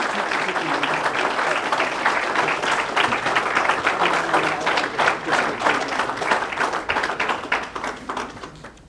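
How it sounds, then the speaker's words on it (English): An audience bursts into sustained applause after a proclamation is presented at an event in St Louis. Brisk clapping carries on for several seconds with a few voices mixed in, then thins out at the close. "let everybody give you a round of applause for your great work"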